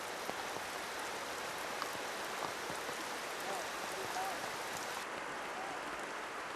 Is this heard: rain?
yes